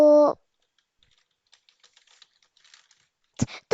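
Soft, scattered key taps on a computer keyboard while entering text in a Scratch project, quiet and close, with brief bits of speech at the start and end.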